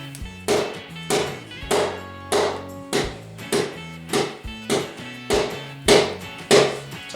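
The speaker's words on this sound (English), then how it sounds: "rubber hammer is really useful for motorcycling" Rubber hammer tapping a dual sport motorcycle's FMF Q4 muffler during repacking: about eleven evenly spaced metallic knocks with ringing tails, close and fairly loud, with no talk.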